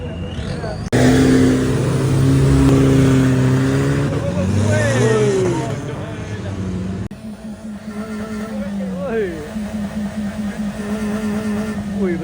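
A car engine revs hard and high at a nighttime roadside in Kuantan, loud and close, with pitch sweeping up and down through several bursts while people talk nearby.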